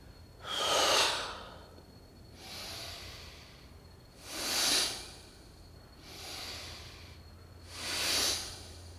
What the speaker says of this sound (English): you take as full a breath as you can, and then focus on this exhalation